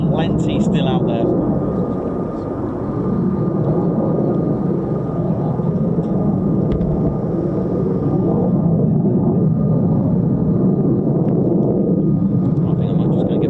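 A US Air Force F-15 or F-35 fighter jet of the 48th Fighter Wing at RAF Lakenheath gives a loud, sustained broadband roar that stays steady and powerful throughout, as if passing close by.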